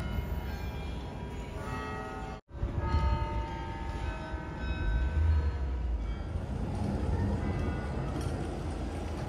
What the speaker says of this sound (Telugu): బిల్డింగుల మధ్య నుంచి అలా మెట్రో వెళ్తూ ఉంటే